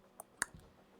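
A voice imitates dripping water with mouth clicks, two or three short sharp pops spaced apart, close and fairly quiet, with no talk over them.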